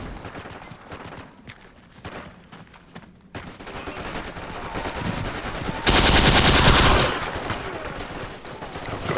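Tommy gun fire in Forgotten Hope 2 multiplayer on a Tunis map, heard as dense rapid bursts among ongoing battlefield gunfire, with a loud sustained burst close by late in the passage.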